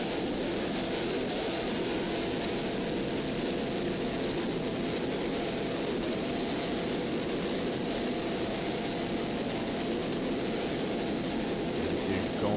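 A Class 5 offshore racing powerboat roars past at the 2007 Point Pleasant Offshore Grand Prix in New Jersey, its loud engine noise and broad rushing spray sustained and dense throughout.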